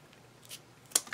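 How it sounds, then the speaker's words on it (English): Large scissors snip a flower stem in two quick, sharp cuts close by, the second louder, against a quiet room. "I think I'm also going to take my big scissors here and try and"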